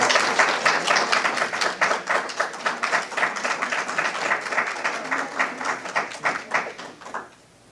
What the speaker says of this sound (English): Let's give our board a round of applause.